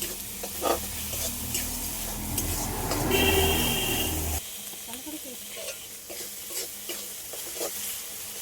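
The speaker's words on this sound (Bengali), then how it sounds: "হলুদের গুঁড়ো সবগুলো একসাথে একটু ভালো করে কষিয়ে নিয়ে হালকা করে কষিয়ে নিই" Turmeric powder and spices are sautéed in a pan for a fish curry. The hot oil sizzles steadily while a spoon stirs and scrapes in irregular strokes, loudest in the first half, then the sizzle eases to a quieter fry with occasional scrapes.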